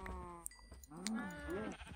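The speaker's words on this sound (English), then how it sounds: "Oops, sorry baby cow, didn't mean to hurt you." A baby cow being hit in Minecraft, giving short bleating, lowing calls with rising and falling pitch, heard close and fairly clear over a quiet game background, with no talking.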